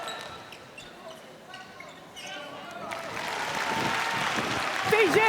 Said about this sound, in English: So a ripple of applause around the M&S Bank Arena.